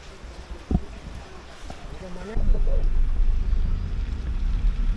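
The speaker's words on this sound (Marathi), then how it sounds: "आपण आता पाण्यातून गाडी टाकत आहोत" A car pushes through floodwater on a road after a flood near Rajapur, a low rumbling rush of water and engine rising abruptly and staying loud, with a brief voice heard early on.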